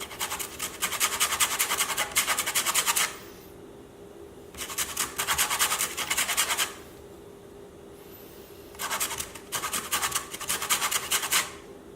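A lemon peel being rasped against a zester, three close bursts of quick scratchy strokes separated by short pauses, quiet and with no talking.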